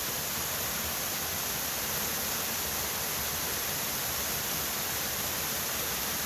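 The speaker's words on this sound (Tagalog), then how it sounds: "ito na yung Burong Falls" Burong Falls in San Jose del Monte, Bulacan, a waterfall roaring as a dense, unbroken hiss that holds steady and fills the whole scene, with no voices heard.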